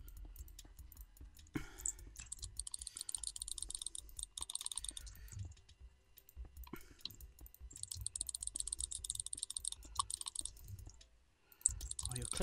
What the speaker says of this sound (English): Oh, you're clicking so ferociously.